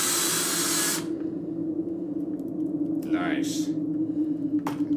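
A hopper gun sprays a homemade baby-blue paint mixture in a loud, steady hissing burst for about the first second, followed by quieter background hum with a couple of faint brief noises.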